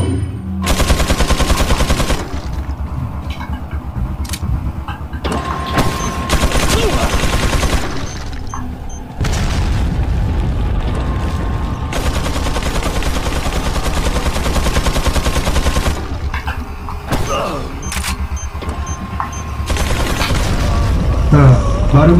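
Weapon fire in Resident Evil 4, with loud, close bursts of rapid gunshots repeating in clusters and separated by short pauses across the stretch.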